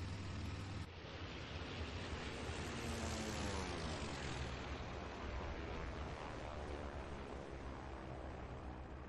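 Propeller fighter engine drones steadily in the IL-2 1946 flight game over Henderson Field, a loud continuous roar with a low throbbing hum and slowly shifting pitch throughout.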